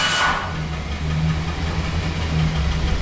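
A 2010 Chevy van engine idles steadily and close by, a low continuous hum and rumble held for a few seconds while the transmission is shifted through its gears.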